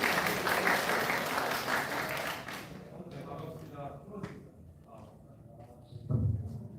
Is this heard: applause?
yes